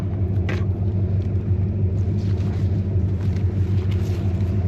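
Ford F150 pickup idling while towing logs uphill, a low steady engine rumble with faint higher rattles and clicks, fairly close and unbroken, no voices.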